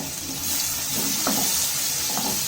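Onions added to a pan with a couple of spoons of oil give a continuous, moderately loud frying hiss with faint stirring clinks, no voices present.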